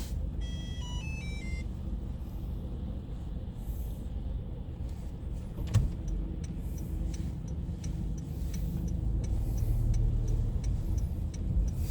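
Steady road rumble and engine drone fill a car cabin while driving, with a short electronic chime of descending beeps at the start, a brief click midway, and faint regular ticking like an indicator later on.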